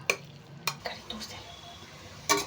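Potato fry being stirred after chili powder is added, spaced spatula knocks and scrapes on the pan with quiet sizzling between them, close and moderately loud.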